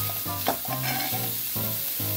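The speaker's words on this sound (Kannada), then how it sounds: "ಇದಕ್ಕೆ ನಾನು ಒಂದು 4 ಲೋಟ ನೀರು ಹಾಕ್ತೀನಿ" Water poured into a hot pan holding raw mango pieces for a sweet mango dish, bringing an even close-up sizzle with repeated scraping, stirring strokes and no speech.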